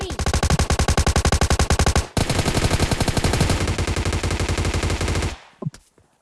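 Sustained automatic gunfire from a firefight in PUBG Mobile Lite, loud, rapid bursts of shots that pause briefly, resume, then cut off, with no voices.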